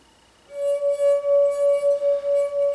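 A water-filled drinking glass has its wet rim rubbed, ringing out a pure, sustained singing tone that starts abruptly and pulses gently in loudness as the finger circles, loud and close with no talk.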